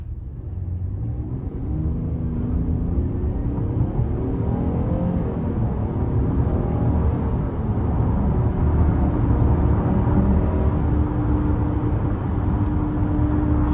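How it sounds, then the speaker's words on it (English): Low engine rumble from a 2018 Buick Enclave Premium V6 builds steadily as it accelerates up an on-ramp onto the interstate, heard from inside the cabin along with a constant road and wind drone, with no talking. "Now I'm gonna give it a little throttle getting on the interstate here."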